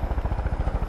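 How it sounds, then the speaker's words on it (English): A helicopter in the video game Far Cry 5 thumps with fast, even rotor beats, about twelve per second, loud and close, with no voices over it. "We're in a helicopter."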